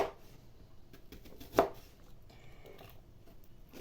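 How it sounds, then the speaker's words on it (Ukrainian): A knife slices a small onion into rings on a cutting board, giving soft, scattered cuts with one sharper chop partway through, close and fairly quiet, with no talk. "Цибулю ми, ця що менша, ми ріжемо на кілечка."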